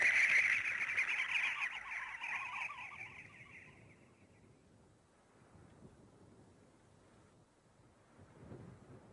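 A desert bird with water-soaked breast feathers beats its wings as it flies back to its chicks, a loud burst of rapid flapping at first that fades to a faint rustling rumble.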